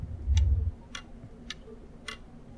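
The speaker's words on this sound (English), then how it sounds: "I hear a clock somewhere." A clock in the indie horror game Beherit ticks four times at a slow, even pace, each tick crisp and fairly close, over a quiet room tone with a brief low thump near the start.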